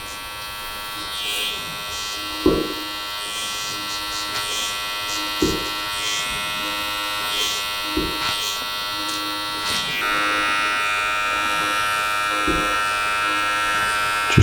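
Electric hair clipper with a 0.5 guard buzzes steadily while cutting hair in a taper, with a constant close hum and periodic soft knocks as the blade passes over the head.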